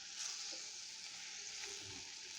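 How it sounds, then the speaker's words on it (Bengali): Bitter gourd frying in oil in a kadai gives a quiet, even sizzle that holds steady with faint bursts of spitting. "এই করলাটাকে আগেই বসিয়ে দিবেন কড়াইয়ের মধ্যে"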